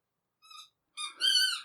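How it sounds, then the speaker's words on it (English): Two high, squeaky tonal sounds with no talk: a short, thin squeak, a brief pause, then a longer, louder, strained squeal that trails off. "Yeah, I think that's squeak."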